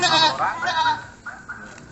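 A goat gives a run of several strained, wavering bleats close by during a lesson on animal slaughter, with a person talking underneath.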